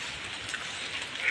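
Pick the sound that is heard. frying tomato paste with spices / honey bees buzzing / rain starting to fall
rain starting to fall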